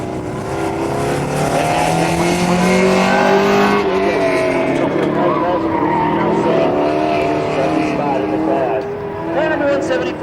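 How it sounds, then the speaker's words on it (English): Race car taking the final turn of an autocross course at a Beretta festival, engine droning loud and steady with tire noise, while an announcer talks over it throughout. "Car number 174, STS, coming down the final turn."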